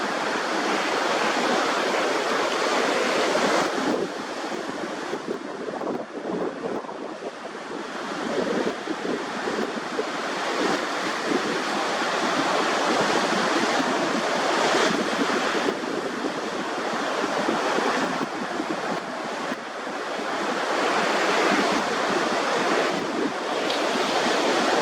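Ocean surf rolls and breaks continuously, loud and close, with waves swelling and receding under gusty wind buffeting the microphone; no voices.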